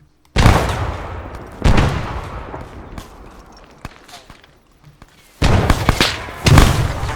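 Video-game frag grenades go off in loud, sharp blasts, three or four close explosions separated by quieter gaps filled with scattered distant gunshots and faint voices.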